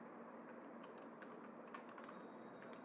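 Keys tapped on a computer keyboard while entering a name into a spreadsheet name box, a quiet, steady run of light clicks close by with no voice.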